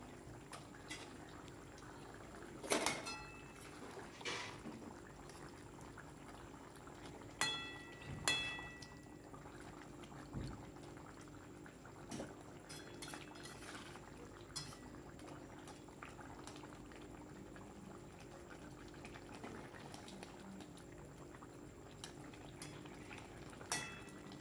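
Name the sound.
fish curry with potatoes boiling in a pot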